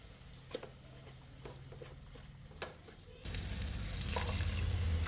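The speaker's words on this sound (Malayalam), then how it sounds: "ഇനി അരി ഇതിലിട്ടിട്ട് ഒരു മിനിറ്റ് ഒന്ന് വറുത്തെടുക്കാം" Rice tossed into a hot pan for garlic rice sizzles and fries with scattered stirring clicks, growing louder and denser partway through, close and steady with no talking.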